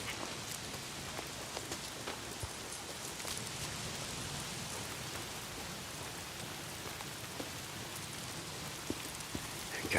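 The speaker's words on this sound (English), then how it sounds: "Why is it always raining?" Steady rain pours in the video game Days Gone, a dense, even hiss of drops pattering on surfaces, fairly faint and constant throughout, with no talk over it.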